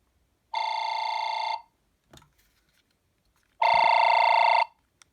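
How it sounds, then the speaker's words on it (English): Intercom ring from an AT&T EL52210 cordless phone: two loud, electronic, buzzing tone bursts about a second long each, separated by a quiet gap with a faint click, heard alone and close. "Here's what the intercom sounds like."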